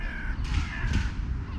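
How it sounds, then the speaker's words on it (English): Crows cawing loudly and repeatedly over steady outdoor ambience, with harsh calls overlapping through the whole stretch near a spot where gulls gather for food. "Hear that? The crows don't like that."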